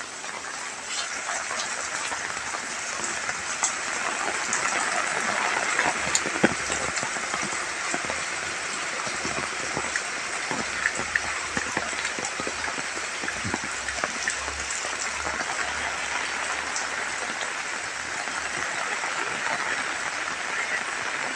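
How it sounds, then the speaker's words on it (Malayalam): Heavy pouring monsoon rain on the Mannarkkad–Attappadi route at Cherappadam, Palakkad, a dense, steady roar of drops spread across the whole stretch, with scattered louder splats and no break. "നല്ല മഴയാണ്, നല്ല കോരിച്ചൊരിയുന്ന മഴയാണ്, ഭയങ്കര മഴയാണ്"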